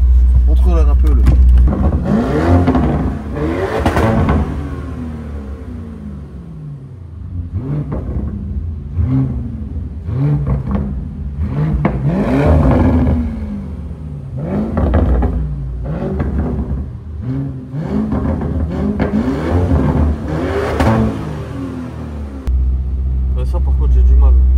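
A Lamborghini Urus Mansory engine rumbles and revs with low, throaty surges, nearly continuous under people talking throughout.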